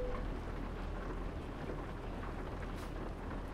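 Steady, dense rain drums down in a stormy scene in the American Truck Simulator video game, a continuous wash of noise with a low rumble underneath and no talking.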